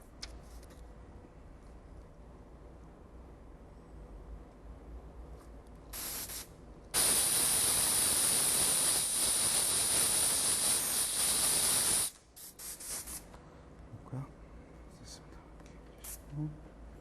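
An airbrush spraying paint for nail art shading: a steady, close, high hiss that runs for about five seconds, with a few shorter bursts before and after. Someone speaks softly.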